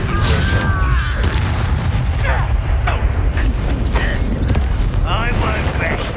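A Confringo spell explodes in the wizarding game Hogwarts Legacy, a dense booming blast with crackling, creaking debris amid continuous loud combat noise and voices.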